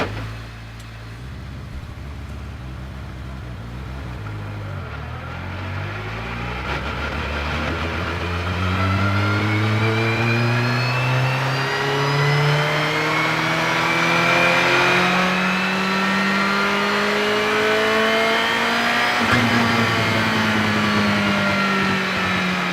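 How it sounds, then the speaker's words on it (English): A car accelerates in first gear up a ramp toward the red line, its engine note climbing smoothly and loudly over about twenty seconds, with a brief dip before rising again and easing near the end. "put the car in first gear, smoothly drive up to the red line"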